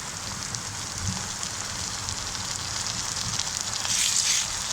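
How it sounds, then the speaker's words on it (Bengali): Ginger and garlic paste frying in hot oil for an egg curry, giving a steady, dense hiss with a slight swell near the end and no talking. "আদা রসুনটাকে একটু ভেজে নেব।"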